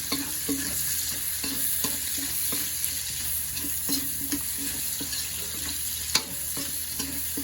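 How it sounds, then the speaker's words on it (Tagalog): Onion and chili sizzle steadily in a hot pan while being stirred and sautéed for dinuguan, with repeated scraping strokes of a utensil against the pan over the continuous close frying. "Haluin lang natin"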